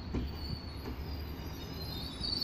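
An Arriva Trains Wales Mark III train set stands at a station platform, giving a low rumble with soft wheel clicks and a faint steady high squeal, heard at a moderate distance with no talking.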